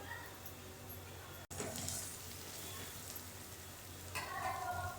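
Grated ginger dropped onto fried onion in a hot pan, giving a steady, fairly quiet sizzle that carries on throughout, with a brief cut near the start and a louder flare of crackling toward the end.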